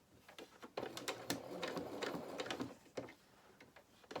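A sewing machine stitches slowly around tight curves on a floppy-eared bunny treat bag, giving soft, uneven bursts of ticking needle strokes with brief pauses, close and fairly quiet.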